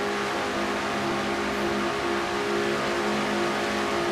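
A stock car's engine heard from onboard during a Coca-Cola 600 race at Charlotte in a racing video game, a loud, steady, droning engine note held at high revs throughout, with no voices.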